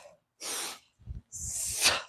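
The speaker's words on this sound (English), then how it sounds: "Breathe in 1 or 2 sniffs of air" Two sharp sniffs of air pulled in through the nose during a kettlebell swing, with the abs braced tight. Each intake is a short, close, breathy rush, separated by a brief pause.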